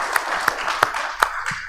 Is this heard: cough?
no